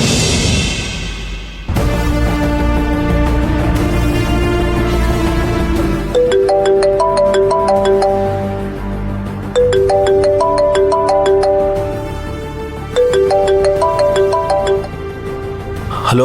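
A phone ringtone plays while calling a friend who works at a toll plaza, a melodic electronic tune repeating in looping phrases for several seconds, loud and clear with no talking over it.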